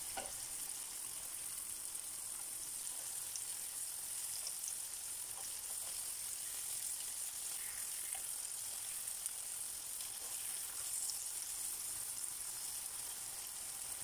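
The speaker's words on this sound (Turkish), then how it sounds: "Tavaya aldıktan sonra ters yüz ederek her iki tarafında pişmesini sağlayalım." Green beans sizzle and crackle steadily as they fry in hot oil in a pan, a constant close hiss with small pops throughout and no voices.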